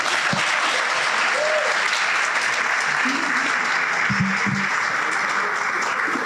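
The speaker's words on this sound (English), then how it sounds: "please give a big round of applause to Jose Masso" Steady applause from an audience at a Pride luncheon, welcoming Jose Masso, a city's Chief of Human Services, to the stage; dense continuous clapping that holds evenly throughout, with no talk over it.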